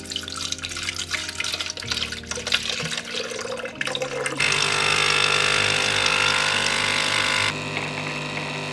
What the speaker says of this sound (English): And then I just gotta pour the water in there.